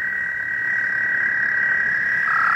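A single American toad gives a sustained, high-pitched trill, steady and unbroken, with faint insect-like background hum.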